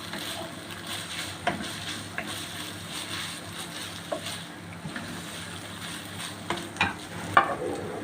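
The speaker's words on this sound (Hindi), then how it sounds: "कीमा अच्छे से फ्राई हो गया है" Minced meat keema frying in a pan gives a steady soft sizzle, with occasional scraping stirs and light clinks, close and without talk.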